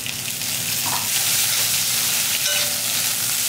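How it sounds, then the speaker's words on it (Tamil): Onions sautéing in a pan for a brinjal and beans lunch dish, a steady close sizzle with occasional stirring scrapes and no voices. "வெங்காயம் இந்த அளவுக்கு நல்லா வதங்கட்டும்"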